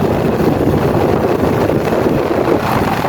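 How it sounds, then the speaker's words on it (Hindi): Steady roaring rumble while riding pillion on a Hero Splendor motorcycle along a road, with heavy wind buffeting the microphone and masking the engine note throughout. "और अभी मेरा भाई बाइक चला रहा है, मैं पीछे बैठ चुका हूँ"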